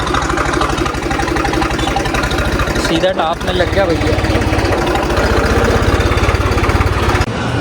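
A tractor used for field preparation, losing coolant, idles with a steady low, chugging rumble that runs throughout while someone talks over it.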